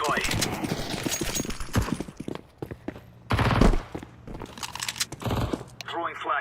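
A decoy grenade in Counter-Strike 2 imitates gunfire with bursts of rapid crackling shots, some close and loud, broken by brief pauses, while a player talks over it.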